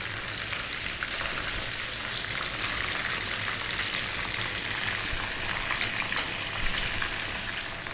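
Homemade fish fingers fry in oil in a pan over low heat, making a continuous, even crackling hiss with no break for the whole stretch.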